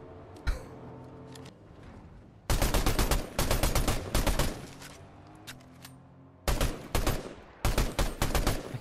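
Gunfire in Fortnite, loud rapid volleys of automatic shots in several long bursts with brief pauses between, close and dominant with no talking.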